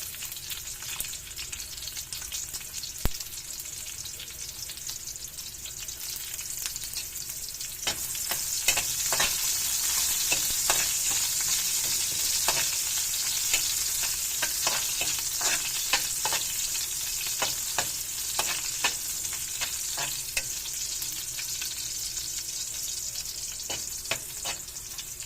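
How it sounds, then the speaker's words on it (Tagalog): Onions stir-frying in a hot pan: continuous sizzle throughout, with repeated scrapes and taps of a utensil growing busier in the second half, close and fairly loud. "Mix natin guys yung sibuyas."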